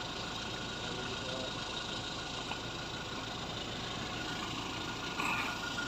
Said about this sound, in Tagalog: Makina.